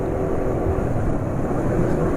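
A steady, rough motorbike engine drone runs continuously, low and gravelly with a harsh rattling texture, close and fairly loud.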